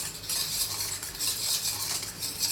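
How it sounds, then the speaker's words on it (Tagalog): Bistek sauce of lemon juice, brown sugar and black pepper being stirred in a bowl, a steady swishing and light scraping with soft utensil taps, close and continuous with no talking. "So haluin lang natin"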